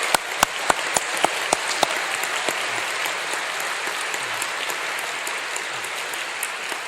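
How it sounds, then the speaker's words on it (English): A large graduation audience applauds in Bridgewater Hall, a concert hall, with a few sharp whoops or claps standing out at the start over steady, dense clapping that fills the room throughout. "please make some noise up in Bridgewater Hall and give yourself a massive round of applause"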